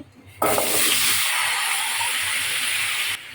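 Potatoes with a little salt and turmeric drop into hot oil in a pan, bursting into a loud, close, steady sizzle that holds for about three seconds before cutting off.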